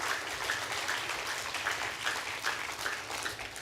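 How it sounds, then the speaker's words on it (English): An audience at a national-level science camp inauguration ceremony gives a round of applause: dense, even clapping from many hands, fairly distant and soft, with no talking. "I would like to request all of you to congratulate by giving a"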